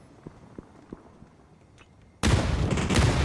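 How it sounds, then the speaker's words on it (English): A frag grenade goes off in PUBG, a sudden loud, broad blast that roars on after a few faint footstep-like taps in near quiet. "Frag grenade getting cooked."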